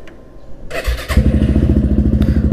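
A motorcycle cold-starts up close: a short starter whir and clatter, then the engine catches and settles into a loud, steady, pulsing idle with a rapid even thump.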